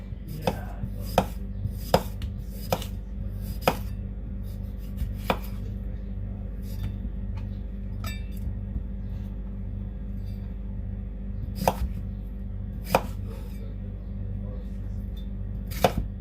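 Knife chopping potato into chips on a cutting board, sharp irregular knocks in bursts with pauses between, close by over a steady low background hum.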